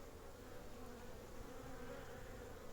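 Dense, steady buzzing of many honeybees in flight at a hive, a continuous drone filling the air without pauses.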